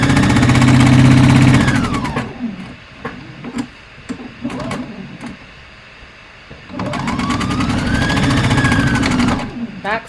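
A home sewing machine stitches a 1/4-inch seam straight over pins on a playsuit, whirring loud in two long steady runs with a stuttering, stalling stretch of slow uneven stitches between them.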